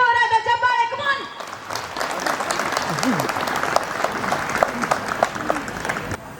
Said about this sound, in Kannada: ಡಾಕ್ಟರ್ ಶಿವಾನಂದ ಎಸ್ ನೀಲಣ್ಣವರ್ ಸರ್ಗೆ ಬರ್ಲಿ ನಮ್ಮ ಜೋರಾದ ಚಪ್ಪಾಳೆ